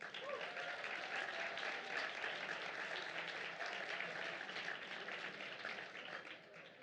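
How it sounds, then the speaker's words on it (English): Sustained applause from an audience at a law school alumni awards ceremony, broad even clapping heard at a moderate distance and holding steady throughout before easing slightly at the end. "please stand so we can give you a round of applause"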